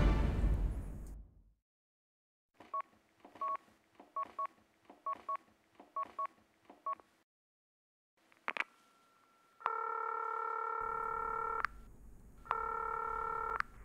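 A phone call is placed: a quick series of keypad dialing tones, then a steady electronic ringing tone that repeats in two long bursts with a pause between, clear and close, with no talking.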